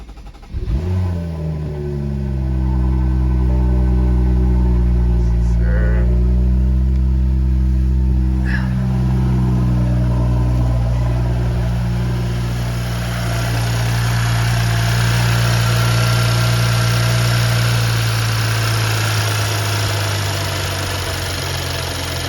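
A BMW N55 engine, just refitted with a new vent hose, cranks and fires with a sharp rise, then settles into a loud, steady, close-up idle with a deep droning hum that holds for around twenty seconds.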